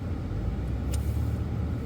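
An electric car drives along a road with a steady, close low rumble of tyres and road noise and a brief faint click partway through.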